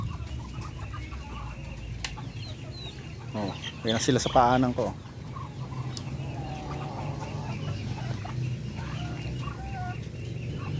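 Backyard chickens cluck and squawk close by, with a louder burst of agitated calls in the middle, while someone talks over them.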